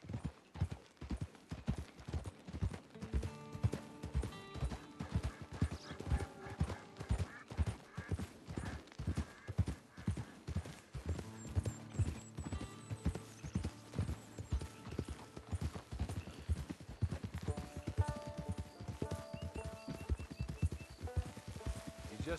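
Horse hooves clip-clop steadily through Red Dead Redemption 2 online beta gameplay, a continuous trotting rhythm at close range layered over game music and ambience, with an occasional whinny and a little talk.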